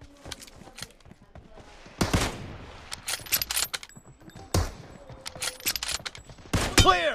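Video game gunfire in a one-on-one match: scattered bursts and single shots with metallic clicks and reload clatter between them, moderately loud and irregular, no talk.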